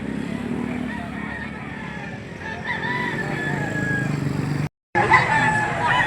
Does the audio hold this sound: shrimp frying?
no